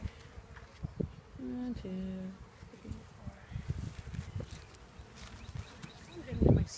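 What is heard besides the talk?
bees buzzing at beehive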